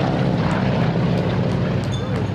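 Airplane flying at an outdoor air show, a steady loud broadband engine roar sustained throughout with no break, fairly close.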